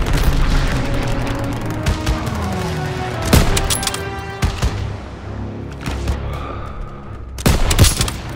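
Heavy battlefield gunfire in a World War II shooter game, with sustained rifle and machine-gun volleys and several sharp booming shots standing out, loud and close, with no talking.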